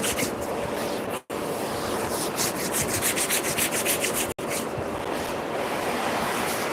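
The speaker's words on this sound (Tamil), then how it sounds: "இரு கைகளை பிரித்து தேய்ச்சி முகத்தை தடவிக்கிங்க" Palms rub together briskly and then stroke the face during an evening meditation, making a close, dry swishing friction that pulses in quick repeated strokes and is broken by two brief silent gaps.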